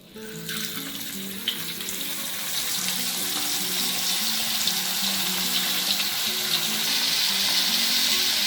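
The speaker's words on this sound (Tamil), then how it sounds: "கருவாடு கொஞ்ச நேரம் பொரிஞ்சா போதும், எடுத்துடலாம்" Steady crackling sizzle of dried fish frying in hot oil, constant and close, with no voices.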